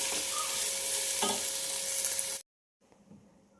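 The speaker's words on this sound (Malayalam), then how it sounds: "അതിൽ തന്നെ ഒരു 6 സവാള ചെറുതായി മുറിച്ചിട്ട് നന്നായി മൂപ്പിച്ചെടുക്കുക" Six finely chopped onions fry in oil left over from frying chicken, giving a loud, dense, steady sizzle that cuts off abruptly and then returns faintly.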